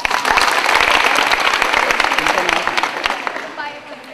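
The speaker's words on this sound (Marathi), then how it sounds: "जोरदार टाळ्या मग" An audience at a college quiz event in Satara breaks into loud, sustained clapping that fills the room, then gradually thins out toward the end.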